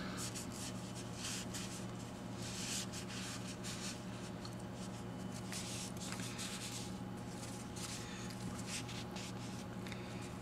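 Leather cleaner is rubbed into the leather boot of a 1997 BMW E36 M3 sedan, giving a steady, close, continuous scrubbing and rubbing with no break.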